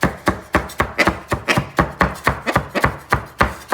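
A knife chops steadily on a cutting board for an omelette, about fifteen crisp, evenly spaced strikes in a fast rhythm, close and clear with no talking.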